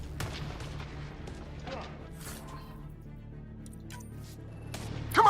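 Gunfire in the video game Mass Effect Andromeda on Habitat 7: scattered shots and cracks over a steady low game rumble, moderately loud, ending in a sharper burst of fire.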